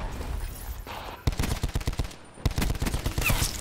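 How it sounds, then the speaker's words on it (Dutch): Gunfire in Call of Duty: Black Ops 4 while aiming for headshots, loud rapid bursts of automatic shots in two volleys with brief gaps, close and dominant. "Je zag me mijn best doen om op het hoofd te schieten"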